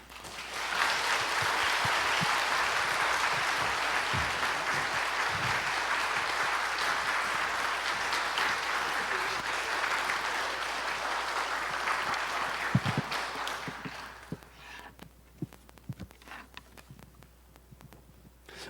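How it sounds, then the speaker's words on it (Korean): A Korean Baptist church congregation gives a big round of applause to welcome the pastor to the pulpit during Sunday worship; dense, sustained clapping for about fourteen seconds, then thinning into scattered claps and quiet. "우리 남원주 침례교회가 환영할 수 있는 가장 큰 박수로 우리 목사님 모시도록 하겠습니다."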